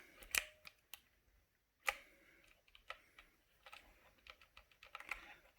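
Keys on a Redragon IDA K583 mechanical gaming mini keypad give a few sharp, separate clicks, then softer scattered ticks and rattles in a quiet room, close and fairly faint.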